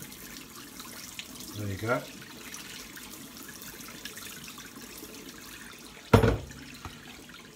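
Cold tap water runs steadily over a bent foam wing's leading edge being straightened, a low continuous wash with a brief louder splash near the end and a voice speaking over it.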